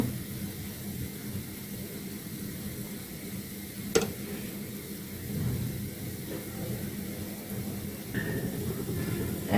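Homemade baby sweets frying in hot oil while being stirred, a soft steady sizzle with a few brief clinks of the utensil, close and fairly quiet.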